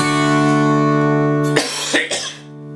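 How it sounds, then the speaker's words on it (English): A single person coughs loudly and close a few times in quick succession, following a sustained ringing guitar chord during a strumming lesson. "There's that cough, I apologise."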